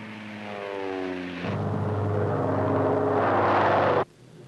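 B-26 Marauder bombers drone in flight, their propeller engines giving a steady, humming tone that thickens into a louder, rougher roar before cutting off abruptly near the end.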